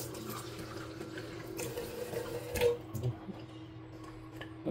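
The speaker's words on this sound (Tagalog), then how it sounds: "Lagyan na natin ng konting tubig." Water trickles and splashes as it is poured into a kettle, fairly quiet, with a few clinks and taps of handling.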